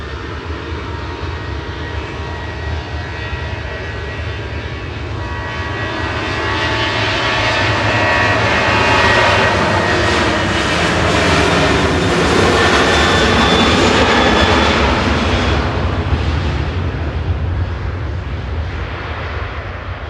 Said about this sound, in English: they love the sound of the classic engines